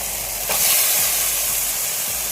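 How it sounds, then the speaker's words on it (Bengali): Loud, close sizzling of a banana flower mixture frying in a kadai, a dense steady hiss that swells slightly after half a second as it is stirred. "তো এবার এটাকে ভালোভাবে এর সাথে মিক্স করে ভেজে নিতে হবে"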